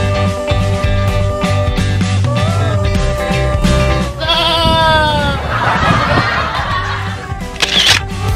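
Herded goats on a mountainside give a couple of wavering bleats amid steady background music, with a camera shutter clicking near the end.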